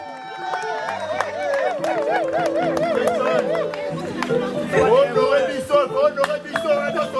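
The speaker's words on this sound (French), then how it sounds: "on acclame très fort" Wedding guests at a religious marriage ceremony cheer loudly as a crowd, with dense chatter, voices and raised tones filling the whole stretch.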